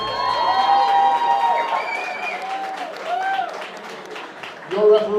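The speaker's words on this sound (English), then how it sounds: "a round of applause for these two fighters" A crowd applauds and cheers for two fighters at a Pure FC 20 MMA event, a loud, steady wash of clapping and shouts in a reverberant arena with a voice ringing over the noise.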